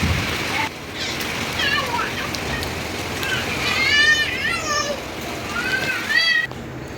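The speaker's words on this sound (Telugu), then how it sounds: "మార్నింగ్ సడన్గా వర్షం స్టార్ట్ అయ్యింది" Steady morning rain falling and splashing on surfaces, a constant hiss throughout, with children's high voices and other talk over it.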